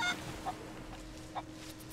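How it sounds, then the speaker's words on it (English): A chicken in the pirate video game Sea of Thieves gives a few short, faint clucks and honk-like calls over quiet background ambience, with no talk. "I found a chicken! Hey! I heard a chicken."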